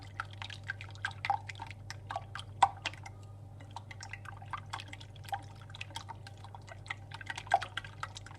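Eggs being whisked for Turkish water börek dough, a quick, irregular series of light taps and clicks of a whisk against a bowl over a low steady hum.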